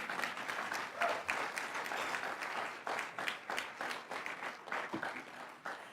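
Audience applause at a political speech in Quebec, dense and sustained with individual claps standing out, swelling and easing slightly over several seconds.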